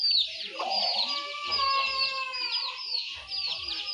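Chickens and growing chicks on a Bangladeshi homestead, a continuous chorus of high peeping cheeps and soft clucks close by, dense and overlapping without speech.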